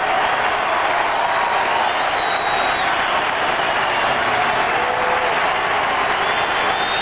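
A baseball stadium crowd at a 2002 Red Sox game, Pedro Martinez pitching against David Wells, roars and applauds in a dense, unbroken wall of noise as fans stand for a full-count pitch, with scattered whistles over the top.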